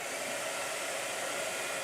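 A blow dryer runs steadily and continuously with a constant airy whoosh and no voices.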